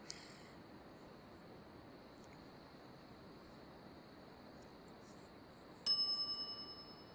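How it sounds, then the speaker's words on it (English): A shop bell in The Secret of Monkey Island Special Edition rings once near the end, a bright metallic ding that decays over about a second after a long quiet ambient stretch. "Alright, let's ring the bell."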